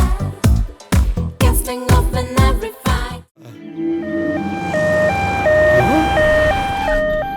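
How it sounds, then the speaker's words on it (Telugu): An ambulance siren, a comedy film scene sound effect, wails in a loud two-tone alternating pattern that takes over after a few seconds of rapid speech and holds steady to the end. "అంబులెన్స్ అనగానే అలా వచ్చేసింది?"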